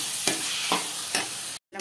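Mint leaves sautéed in a pan for village-style chutney, heard as a soft continuous sizzle with a few regular scraping stir strokes, cut off briefly near the end.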